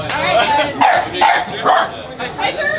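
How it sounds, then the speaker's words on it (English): An attack dog in a video game barks and yips several times in quick bursts, set against background game noise and some voices. "That's an attack dog."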